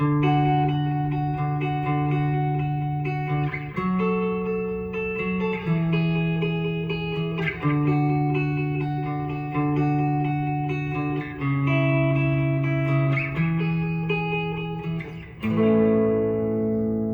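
Electric guitar played through a delay pedal with no reverb, sustained chords and notes ringing with audible repeating echoes, loud and clean throughout with a final chord left to decay.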